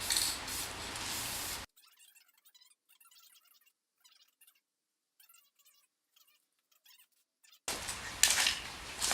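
A spray gun lays a heavy clear coat onto a two-piece wheel in two loud hissing bursts at the start and end, with near silence and faint clicks between them.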